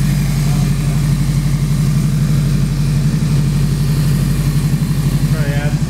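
Turbo Honda S2000 engine just fired up and idling, a loud, close, pulsing rumble with a steady rhythmic throb, while people talk over it now and then.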